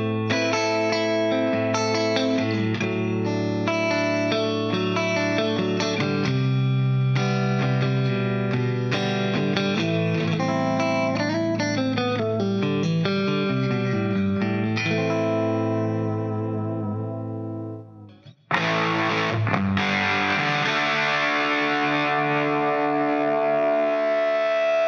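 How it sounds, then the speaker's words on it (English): Electric guitar played with a crunchy, distorted tone through a BC Audio Amplifier No. 7, a run of loud chords and notes that briefly cuts out, then returns as a sustained strum with no talking. "If you really want to get some crunch, you gotta crank both."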